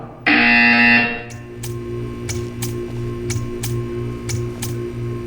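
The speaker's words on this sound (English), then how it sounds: "You will hear a buzzer." A loud electronic buzzer in the video game Portal 2 blares once for about a second, followed by a steady, regular ticking over a low background hum.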